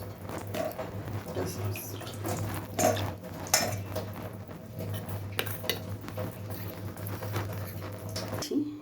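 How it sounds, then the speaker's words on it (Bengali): Cornflour is stirred with water in a bowl while cooking a mushroom chilli dish, giving light scraping and clinking of a spoon against the bowl with soft patter, steady and close throughout. "এটা আমি জল দিয়ে গুলে নেব।"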